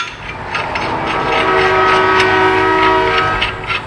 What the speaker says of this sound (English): Comes the choo-choo.